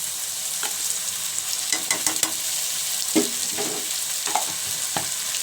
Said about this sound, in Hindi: अब इसको अच्छी तरह हम अदरक लहसुन के साथ भी भूनेंगे